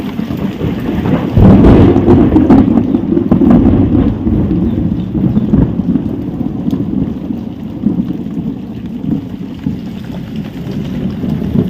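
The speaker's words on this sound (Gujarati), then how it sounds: "વરસાદ કડાકા ભડાકા થાય છે" A village thunderstorm with loud rumbling thunder and steady heavy rain, the thunder strongest early and then sinking into a continuous wash of rain, close and loud with no voices.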